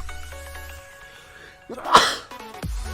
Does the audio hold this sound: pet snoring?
no